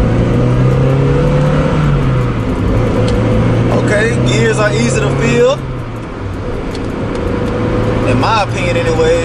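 A 1999–2000 NB1 Mazda Miata fitted with a short shifter drives at night, engine droning steadily from inside the cabin with a rise and dip in revs as gears change, and someone talking over it.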